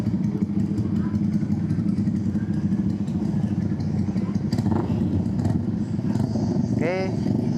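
Yamaha XMAX scooter and other motorcycles setting off together on a group tour, a steady rumbling of engines nearby with occasional revs, under people talking.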